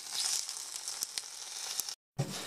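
A scallop sizzles and fries in a hot pan, a steady crackling hiss with small pops, close and fairly soft, briefly cutting out before the sizzle resumes.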